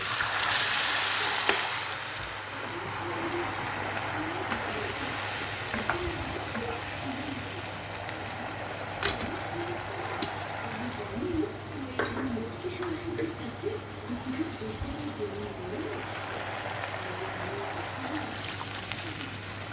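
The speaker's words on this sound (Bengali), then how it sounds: "এবার আমি জল ঢেলে দিচ্ছি" Semolina frying for upma in a pan with raisins, as water is poured in; a steady broadband sizzle and hiss runs throughout with clattery stirring bursts and a voice speaking over it.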